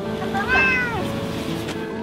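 A small stray kitten gives a single drawn-out meow at close range over steady background noise, the cry rising then falling and trailing off.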